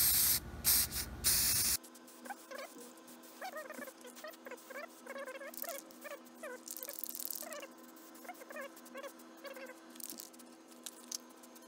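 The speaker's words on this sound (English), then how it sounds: "you can just use one of the paints like that with the primer and then just spray it" Short hissing bursts of an aerosol spray paint can on the edges of a wooden cabinet, repeated in quick irregular puffs with light rubbing and clicks between them.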